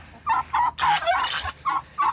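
Chickens clucking as they are let out of a farm coop, a series of short, rhythmic clucks and squawks close by, with one longer excited burst in the middle.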